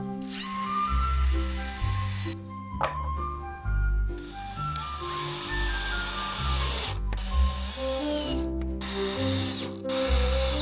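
A power drill whirs in several bursts, its pitch rising and falling as it starts and stops, close and fairly loud.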